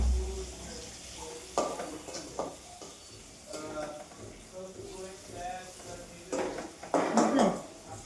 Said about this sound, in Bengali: কুমড়ো ভাজা বসিয়ে দিই অলরেডি